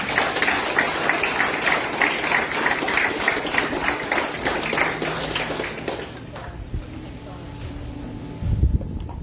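Graduation ceremony audience for the class of 2021 breaking into applause, a thick steady wash of clapping for about six seconds that then thins and fades to quieter room sound.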